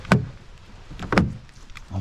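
A micro camper door being opened, two distinct sharp clunks about a second apart, close and fairly loud, with faint rattles between them and no talking.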